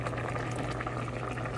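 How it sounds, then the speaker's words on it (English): Water boils hard in a pot on the stove for spaghetti, a steady near bubbling and rushing with no voices, lasting under two seconds. "We lost almost half the water from boiling."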